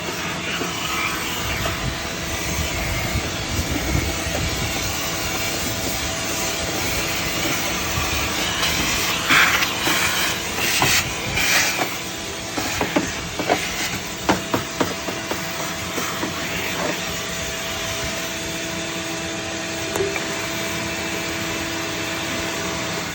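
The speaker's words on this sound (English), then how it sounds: "we got to get this ash cleaned up out of here" A vacuum cleaner roars steadily, sucking ash out of a Pit Boss grill. Rattling clatter and knocks of debris pass through the hose partway through, close and loud with no speech.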